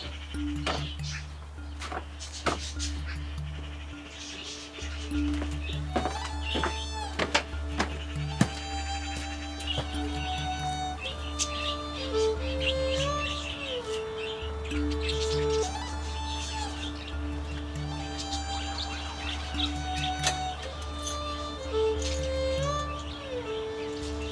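Canaries in a home aviary chirp and trill in scattered bursts over a constant low electrical hum, with bright whistled phrases rising and falling throughout.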